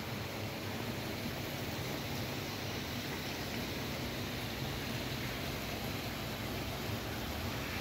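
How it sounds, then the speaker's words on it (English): Steady rushing water pours continuously from a small garden waterfall, a broad even splash with no pauses, close by and fairly loud. "A little waterfall there."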